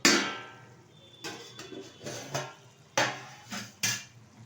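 A metal lid set on and lifted off a cooking pot of banana-blossom curry gives several sharp, close clanks at irregular intervals over a quiet kitchen background.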